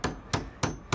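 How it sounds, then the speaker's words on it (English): Wood is hammered in a scene from the film The Hateful Eight, with four sharp, evenly spaced blows about a third of a second apart, close and without talk. "You gotta hammer another one."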